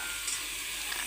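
Onion pieces hit a pan of frying masala for aloo matar curry, giving a steady, moderately loud sizzle with faint stirring scrapes throughout and no talking.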